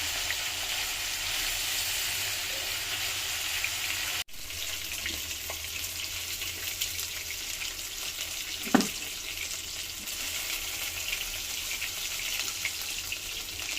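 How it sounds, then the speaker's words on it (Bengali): Potatoes fry together in a home-kitchen pan with a steady, dense sizzle that fills the whole stretch, broken by one brief dropout and a light knock partway through; no voices. "এখন আলুটা দিদি সাইডে দিয়ে একসাথে ভাজি নিচ্ছি"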